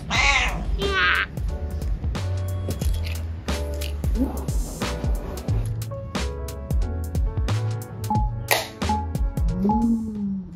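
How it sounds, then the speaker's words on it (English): A cat living in a university residence hall, NTU Crescent Hall, meows repeatedly at close range, with short, varied cries spread across the stretch amid light rustling. "This is the hall cat."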